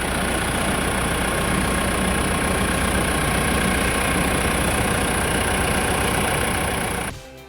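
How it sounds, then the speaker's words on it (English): A 2024 Mitsubishi Triton Athlete diesel engine idles steadily, a dense, constant low rumble with a fine mechanical rattle heard from outside the truck, cutting off abruptly at the very end. "the diesel rattle is quite minimum"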